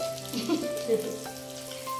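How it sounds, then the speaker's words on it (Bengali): Fish frying in hot oil in a home kitchen, a steady close sizzle and crackle running the whole way with small pops, no talking. "মাছ ভাজা কমপ্লিট"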